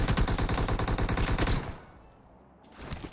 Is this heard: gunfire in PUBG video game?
yes